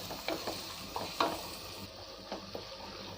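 Green peas fry in a pan for a mushroom biryani, a soft hiss of sizzling oil under several distinct clinks and scrapes as a spatula stirs the mixture.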